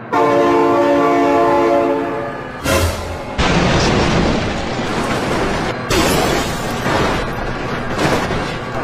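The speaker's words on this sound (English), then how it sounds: "Oh my god, train!" A loud train horn blares close by, then a train roars past with heavy rushing noise and rumbling that fills the rest of the clip.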